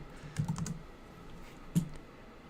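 Quick clusters of keystrokes on a computer keyboard, a short burst near the start and a single tap later, close and fairly quiet with no talking.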